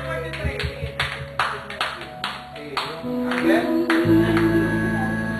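Audience clapping at a lively performance, a run of rhythmic claps in time with each other over music, followed by a denser, louder stretch with a voice calling out.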